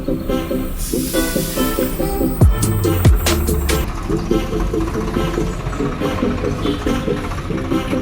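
A vehicle engine drones and revs as it pushes along a rough, muddy road, a loud steady rumble with a couple of sharp sliding squeals partway through.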